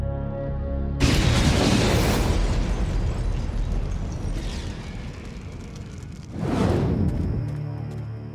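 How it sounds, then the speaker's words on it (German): Almost 20 litres of diesel detonated in a test blast: a sudden loud roaring boom that slowly decays into rumble, then a second strong burst follows near the end. "Bringt man knapp 20 Liter Diesel zur Explosion,"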